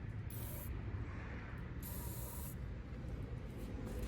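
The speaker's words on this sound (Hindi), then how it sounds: "सारे जो मैं रिमूव कर रहा हूँ सब पर मैं WD-40 स्प्रे कर रहा हूँ" WD-40 sprayed from an aerosol can onto the nuts of a BMW E39 5 Series during fuel tank removal, two loud sustained hissing bursts over a steady background hum.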